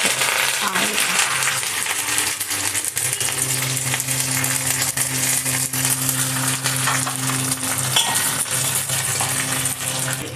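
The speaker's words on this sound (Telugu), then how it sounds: "ఇదిగో ఆవాలు చిటపెట్లు ఆడుతున్నాయి" Mustard seeds crackle and pop in hot ghee in a pan, a dense, loud, continuous spluttering with a steady hum beneath, heard up close.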